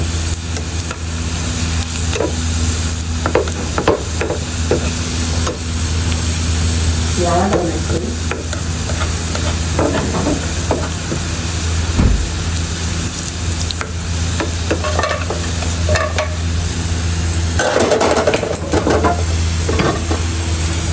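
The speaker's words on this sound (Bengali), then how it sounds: "রসুনটাকে একটু ভেজে নিই" Garlic frying in a pan with black pepper and chili flakes, a loud steady sizzle broken by repeated clinks and scrapes of stirring, with a brief voice partway through.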